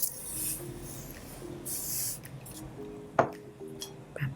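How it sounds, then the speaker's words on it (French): Water mist from a handheld spray bottle hits a face, heard as a few short airy hisses, one sharper burst near the end, close and fairly quiet with faint handling clinks. "je vais commencer par hydrater mon visage avec ce vaporisateur-là"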